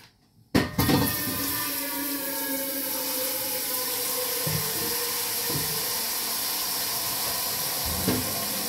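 Hot water runs from a tap into a large pot, a steady loud hissing rush that starts abruptly after a brief knock and keeps going, with a few faint bumps along the way.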